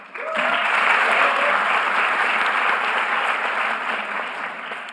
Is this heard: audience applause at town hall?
yes